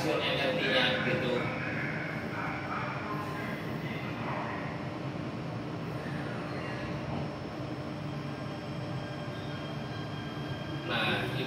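Interior of a moving Jakarta MRT train: continuous rumbling rail noise and hum throughout, with a person talking over it.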